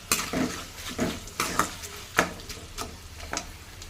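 A pan of tempering for lemon rice fries over a low flame with turmeric added. A spoon scrapes and clinks against the pan in irregular strokes over a soft sizzle.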